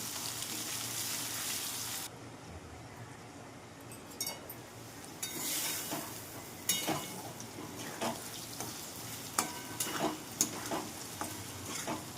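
Bitter gourd frying in oil, a steady bright sizzle that drops away partway through and is followed by scattered clinks and stirring scrapes against the pan.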